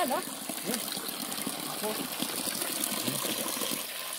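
Cold natural spring water gushing down from above at a mountain waterfall, a steady, noisy rush close by, with voices talking faintly underneath.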